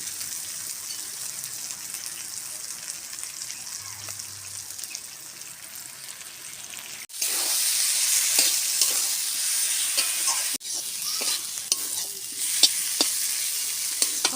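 Shredded cabbage frying with spices in a pan gives a soft, steady sizzle, with scraping stirs throughout; the frying grows louder and brighter about halfway through, with repeated spoon scrapes over the hiss.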